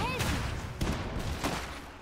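Rapid bursts of gunfire in the video game Iron Harvest crackle and pop in a dense, busy battle mix, with sharp shots cutting through.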